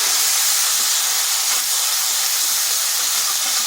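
Ginger and green chilli paste hitting hot oil, a loud continuous broadband hiss and sizzle that holds steady throughout, close by with no voices.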